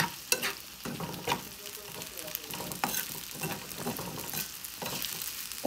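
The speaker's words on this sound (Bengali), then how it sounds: "তা এটা একটু হালকা ভাজা ভাজা হোক বলে মশলাগুলি দিব।" Garam masala spices fry in oil for a milk taro curry, giving a soft, continuous sizzle with scattered crackles and stirring scrapes, heard close and fairly quiet.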